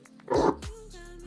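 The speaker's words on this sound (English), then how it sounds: "This is my dog." A pet dog lets out a single rough bark close by, followed by a brief whining, whimpering tail.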